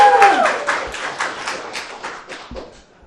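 Audience applause at a live music event, a burst of clapping that starts full and gradually thins and fades over a few seconds.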